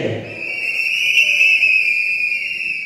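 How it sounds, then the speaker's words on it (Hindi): Audience whistling at a launch event, a shrill sustained whistle tone held steadily for nearly three seconds and louder in the middle. "वापस सीटी बजाइए"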